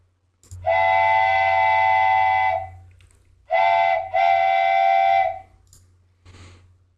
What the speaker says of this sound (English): So I could just download this wooden train whistle